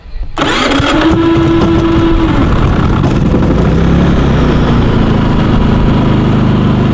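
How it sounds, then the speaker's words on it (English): A small engine machine with electric start spins over with a high whine, catches within a second and runs on at a steady, loud, close idle with a continuous mechanical drone. "You simply just got to hold the electric start on for about 5 seconds."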